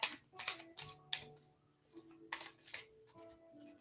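Cards for a live reading are shuffled and handled close up, giving several quick riffling bursts and soft papery slaps, alone and without talk.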